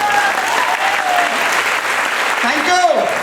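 Audience clapping at an award recognition event, continuous loud applause throughout with a voice speaking over it.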